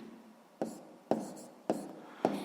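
Four quick pen or chalk strokes land at a steady rhythm while a math answer is written out, each a short scratchy tap, close and fairly quiet.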